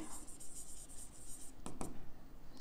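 Pen or marker scratching across a board or paper while writing out a partnership ratio calculation, a steady soft scrawl with a couple of sharper strokes near the end, close and quiet with no talk.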